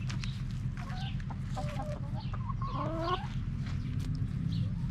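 Backyard pet hens in a garden give soft, close clucks and short rising calls in several small bursts over a steady low background hum.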